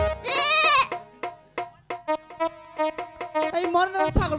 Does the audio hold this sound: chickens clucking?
no